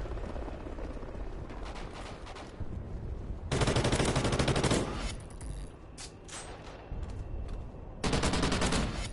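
Gunfire in a video game's gun game mode rattles in rapid automatic bursts, with two louder dense volleys and lighter shots between, fairly close and without talking.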